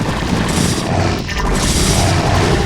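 Protoss units in StarCraft firing steadily at a Zerg Cerebrate, a dense, continuous barrage of booming, crashing weapon impacts heard up close with no voices.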